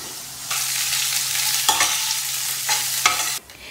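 A big onion sautés in a pan with chana dal, urad dal, curry leaves and vangi bath spice powder, giving a steady close sizzle broken by a few scraping stirs, with no one speaking.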